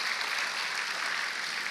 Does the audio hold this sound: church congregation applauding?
yes